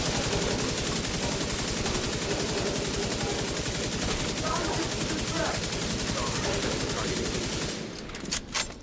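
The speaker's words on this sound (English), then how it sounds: "That was it for the rockets? Mini rockets?" Rapid mini rockets fire in a continuous stuttering volley in a video game, loud and close for several seconds before cutting off into a few scattered thuds.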